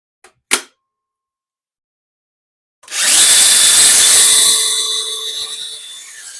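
DeWALT power tool powered by a homemade Molicel INR21700-P50B battery pack: two brief clicks, a pause, then a loud high-pitched motor whine that spins up and gradually winds down.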